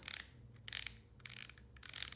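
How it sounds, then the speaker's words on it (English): The drag knob of a KastKing WhiteMax fishing reel ratchets as it is twisted off, four quick bursts of fine, close clicking separated by brief pauses, no voices. "it's going to click and click and click, and then it'll stop and you can twist it right off there"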